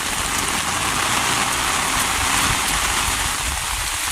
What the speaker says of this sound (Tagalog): Patilain po muna namin yung ulan